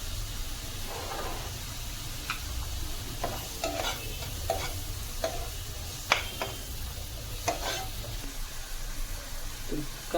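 Sliced onion fries with a little salt in a pan, a soft steady sizzle under repeated sharp taps and scrapes of a spatula stirring against the metal, fairly quiet and close, with no talking.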